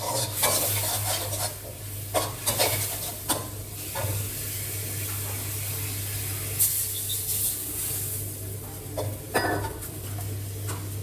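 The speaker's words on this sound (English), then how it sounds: "Stir into the mixture and let it cook." Thai fried pork belly with shrimp paste crackles and sizzles in a pan as it is stirred, repeated scraping and clinking strokes over a continuous frying hiss and a low steady hum, close and loud with no voices.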